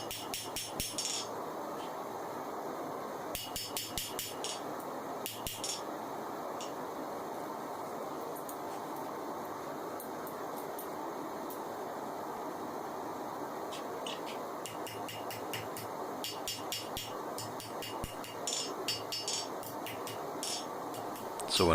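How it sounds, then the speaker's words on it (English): Repeated metal hammer strikes ring against an anvil in irregular bursts while forging the tip of a knife blade, over a steady background hum, close and fairly loud. "when I'm hammering in the tip, the curve to the tip of the blade"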